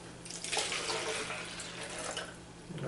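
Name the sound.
water and brown sugar mixture poured into bottle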